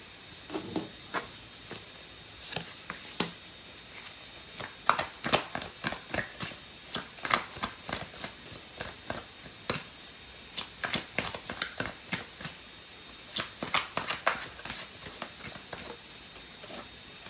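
Tarot cards shuffled by hand in a steady flurry of quick papery riffles and taps, close and fairly loud, carrying on without a break and with no voices.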